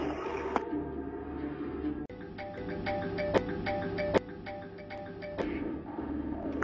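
A phone rings with a repeating electronic melody of bright tonal notes and sharp chimes, fairly loud and steady with no voices.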